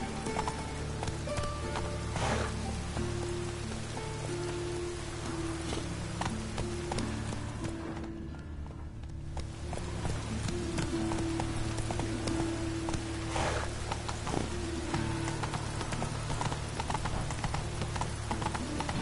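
The horse Roach trots with steady, rhythmic hoof clip-clops in a video game, close and clear throughout over a low ambient bed with faint rain-like patter.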